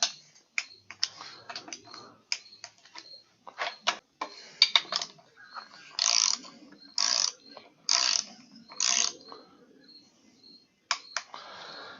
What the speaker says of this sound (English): we'll just pull them down until they click